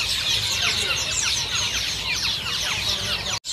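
Young caged songbirds in a bird shop, including hill myna, hill magpie and other chicks, give a dense, constant chorus of shrill overlapping calls, loud and close, with no talking.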